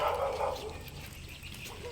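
Angry dog named Chucho, tied up, barking in a few quick, faint yaps against low background noise.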